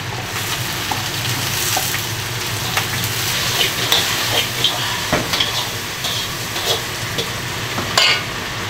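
Ribs and shrimp stir-fried in a wok with onion and celery, a steady loud sizzle with scraping stirs and clinks of the spatula against the pan, no voices.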